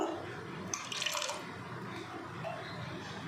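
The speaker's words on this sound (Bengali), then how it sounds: "এবার ভিনিগার দিয়ে দেবো" Vinegar is poured into milk that has been heated and boiled to split it into chhana for mango sandesh: a brief, soft trickle and splash near the start, then a quiet room hush.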